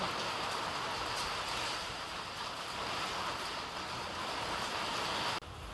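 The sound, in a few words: rain and windstorm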